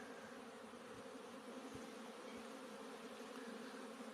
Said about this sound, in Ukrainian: Ось що на пасіці відбувається. Потужний обльот. Ось це альпійці, ось так літають.